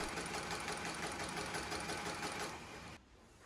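A factory tufting machine drilling holes and inserting bristles into a round toilet brush head, a fast, even mechanical chatter that runs steadily and then cuts off abruptly near the end.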